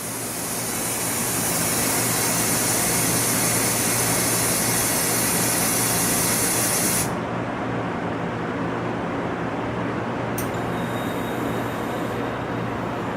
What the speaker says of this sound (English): That's what it's doing before, it's purging air.